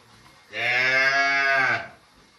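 A cow in a cave gives a single long, loud moo lasting over a second, clear and close with a slight roomy echo, surrounded by quiet.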